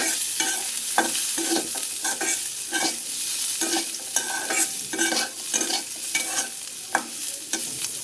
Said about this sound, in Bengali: কাঁচা মরিচ দিয়ে দিলাম, একত্রে ভাজা নিচ্ছি।